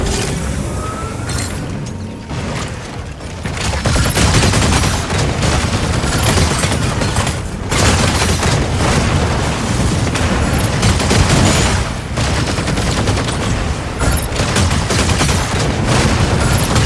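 An energy autocannon fires in the mecha video game Mecha Break, loud sustained bursts of rapid gunfire with crashing impacts, pausing briefly a few times before resuming at full intensity.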